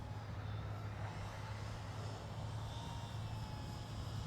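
A Hobbyzone Arrows 1300mm Bigfoot RC airplane flies at a distance with a faint steady hum from its small electric motor under outdoor wind noise.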